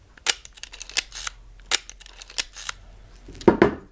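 A titanium Leica M3 rangefinder camera's shutter fires in a close, quiet room, giving a series of crisp mechanical clicks spaced irregularly over a few seconds, the last pair sharper and louder.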